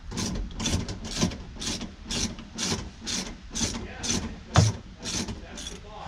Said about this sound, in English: that's why I want to file that pulley a little bit